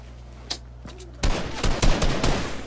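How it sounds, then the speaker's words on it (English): A couple of isolated shots ring out, then a sustained rapid volley of gunfire erupts loud and close in the video game Fortnite. "took the gun and missed every shot"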